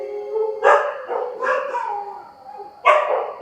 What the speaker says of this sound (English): Sorry, too many dogs.